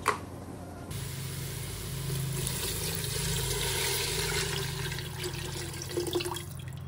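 Water pouring steadily into a pot while pasta cooks, a continuous close splashing rush with a low background hum and a brief clatter at the start, no talk.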